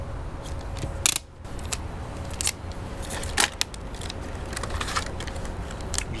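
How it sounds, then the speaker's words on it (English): Adhesive tape is pulled and pressed onto a thin plastic smartphone camera crash cage, giving close crackling, sharp rips and soft taps over a steady low background. "I'm just putting a piece of tape to hold the slits above and below them, on the inside and outside."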